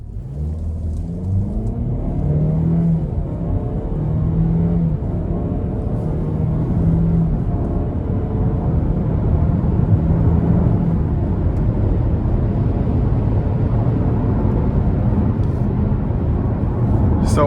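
A 2026 Buick Envision Preferred AWD accelerates gently to merge, its engine giving a steady rising drone with shifting tonal hum over constant road and tire rumble, heard from inside the cabin.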